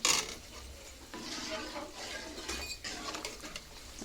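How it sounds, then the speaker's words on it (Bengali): Raw rice being stirred in a pot while making payesh, giving soft scraping and faint clinks of the spoon against the vessel, steady and close, with a brief voice at the start. "এই যে পোলার চালটা দিয়ে লাড়তে হবে"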